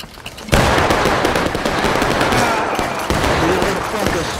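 Musket volley fire in the Civil War game War of Rights erupts in a loud, dense crackle of many shots at once, followed by sustained rolling gunfire, with voices talking over the battle.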